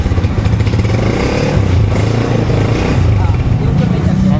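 A Honda TMX motorcycle engine runs loud and close, its rough, throbbing idle revving steadily throughout, with a voice speaking over it.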